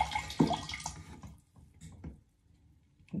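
Water splashes and drips into a sink as cups are poured out during bath-time play, a few short bursts with quiet gaps between, no talking.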